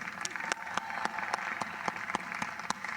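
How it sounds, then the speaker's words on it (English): Applause from a university commencement audience, a steady dense wash of clapping with sharper individual claps standing out, continuous and fairly even throughout. "Let's give them a round of applause together."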